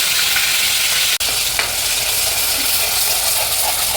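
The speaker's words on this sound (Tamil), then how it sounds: "இஞ்சி பூண்டு பேஸ்ட் போட்டுக்கலாம்." Ginger garlic paste sizzles loudly in hot oil in a pan for a mutton gravy, the steady frying hiss broken by a sharp clink of the stirring spoon and scraping as the paste is moved around.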